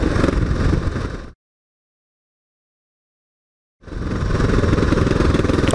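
Motorcycle engines run loudly and close by, cut off abruptly into more than two seconds of silence, then start up again with the same dense rumble.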